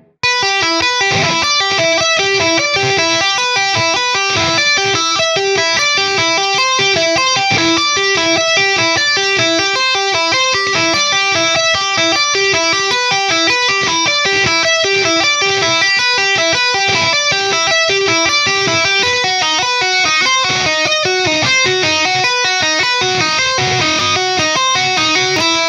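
Electric guitar tapping exercise moving through several fretboard positions: a fast, continuous stream of evenly spaced legato notes, bright and loud, sustained throughout without pause.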